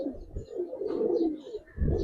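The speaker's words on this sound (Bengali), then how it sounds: "হ্যাঁ, মাত্র যৌবনে আসছে, খুব ভালো ফ্লাইং কবুতর গুলার" Pigeons cooing in a loft of Giribaz flying and coloured breeds, soft low throaty coos repeating close by in a quiet space with no talk.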